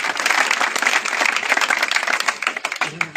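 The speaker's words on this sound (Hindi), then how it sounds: "तो जोरदार इनके लिए भी तालियां हो।" Dense, steady applause from an audience at a children's 5 km race awards ceremony at a soldier physical academy, thinning into scattered claps near the end.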